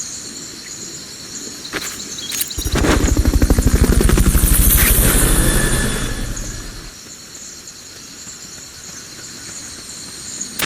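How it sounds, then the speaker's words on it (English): A video-game helicopter's rotor chop in Metal Gear Solid Peace Walker swells in loudly, thumping rapidly for a few seconds, then fades away over a steady bed of chirping insects. "Fulton recovery subject confirmed onboard helicopter."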